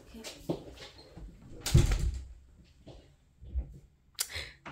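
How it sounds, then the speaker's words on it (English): A door swings shut in a home, a loud thump near the middle standing out over quiet room noise with a few softer knocks and rustles before and after. "Close the door for me, okay?"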